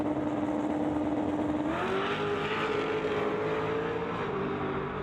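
Limited Street drag race cars accelerate hard down the strip toward about 134 mph, a loud, continuous engine drone whose pitch steps up as the gears shift, with no talk over it.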